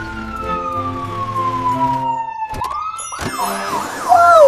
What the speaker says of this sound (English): Did you hear the siren? Put your helmets, everyone! Fire truck is on the way!